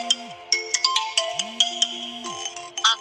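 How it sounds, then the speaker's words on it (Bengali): A phone ringtone that announces a name in Bengali, playing as a melodic synthesized tune with repeated phrases and sustained tones, loud and close with no talk over it. "একটু আগেই হয়তো আমার রিংটোনটি আপনারা শুনেছেন"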